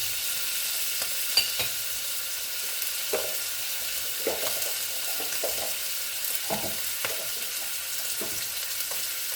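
Garlic and onion sautéing in hot oil, a constant crackling sizzle broken by occasional scraping stirs from a spatula, close and steady with no voices.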